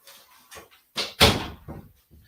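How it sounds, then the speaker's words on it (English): A door is shut indoors with one solid thud in the middle, surrounded by a few fainter knocks and rustles. "I had to shut the door"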